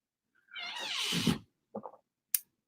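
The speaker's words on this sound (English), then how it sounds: "My orange cat is here." An orange cat lets out one drawn-out, rising-then-falling meow, followed by two short chirpy trills and a faint tick, close and clear in a quiet room with no talk.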